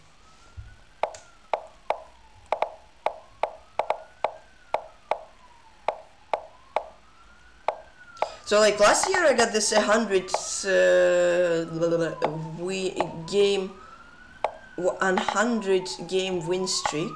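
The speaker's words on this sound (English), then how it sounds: "Oh gosh, ambulance, can you pass please?" An ambulance siren rises and falls in slow sweeps throughout, first over sharp rhythmic clicks, then under loud chatter and exclamations from people talking.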